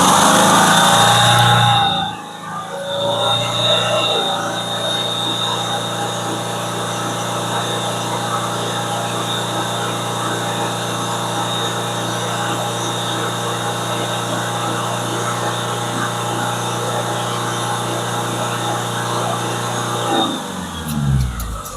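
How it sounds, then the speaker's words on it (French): A car engine, just running again after a botched timing belt job, is revved and held at about 3500 rpm for roughly twenty seconds. It gives a loud, steady drone that drops off at the end. "je vais l'accélérer à 3500 tours"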